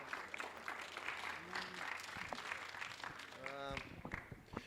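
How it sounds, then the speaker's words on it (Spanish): Faint, scattered audience applause at a talk on Mexican national sovereignty, with voices calling out over the clapping throughout. "aplaudan y no se repriman."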